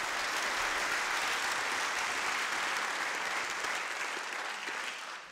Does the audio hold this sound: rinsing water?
no